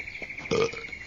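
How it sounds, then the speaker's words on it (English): A single loud, deep burp from an animated Shrek movie scene rises sharply out of a quiet background and lasts only a fraction of a second. "this is probably literally only the burp"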